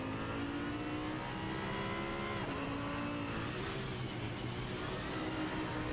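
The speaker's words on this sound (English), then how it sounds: "You can see and hear like all kinds of rattling in this car." A damaged race car engine drones loudly and steadily at speed at Kyalami circuit, with harsh rattling and buzzing running through the noise throughout.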